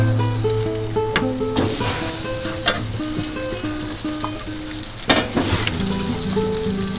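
Fish sizzles on an outdoor grill with a loud, steady crackling hiss, broken by occasional sharp clatters and bumps of handling nearby.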